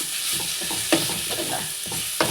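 Onions fry in a pan for egg curry, a constant close sizzle with several scraping stirs of a spoon against the pan, sounding alone without talk.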